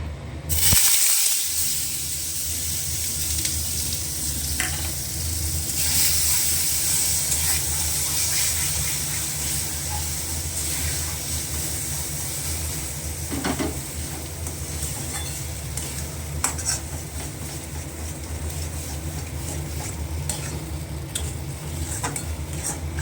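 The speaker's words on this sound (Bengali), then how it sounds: "এই যে সেটা ভেজে শুকনো শুকনো করতে হবে" Mashed yardlong beans fry in a pan, a continuous loud hiss and sizzle that holds steady throughout, with a few faint clinks of utensils.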